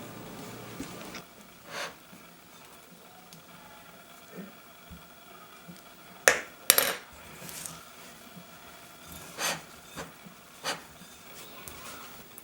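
A fork mixes peanut butter chocolate chip scone dough in a bowl, giving quiet scattered scrapes and clinks against the bowl, with a couple of sharper metallic knocks near the middle and softer taps later.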